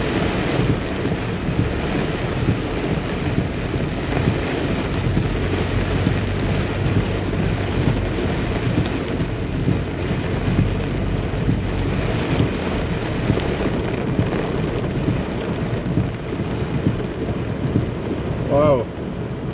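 Heavy rain pouring down while a car drives along a flooded road in Jamaica, a dense continuous roar of rain and water close by, with low road rumble underneath and no talking.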